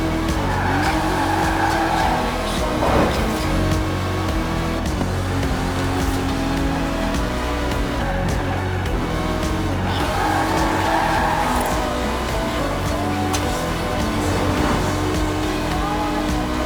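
An Aston Martin DB5 Vantage, a 1960s British grand tourer with side-draft carburetors, drives hard in Forza Horizon 4, its engine droning loudly under long, repeated tire squeals and skids.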